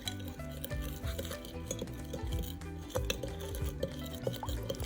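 A guinea fowl tajine mixture with a little added water is stirred in a pot, giving close, repeated scraping and clinking of a utensil against the pot in an uneven rhythm with no talking.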